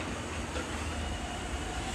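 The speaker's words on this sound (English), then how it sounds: "There's a train. The train is actually celebrating 25 years." A colorful train marking its 25th anniversary rolls through a Los Angeles station, a steady low rumble of rail cars passing nearby with no talk over it.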